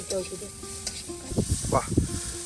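Onion and garlic frying in a pan with a soft, steady sizzle and some stirring scrapes, fairly quiet, with a brief voice in the background.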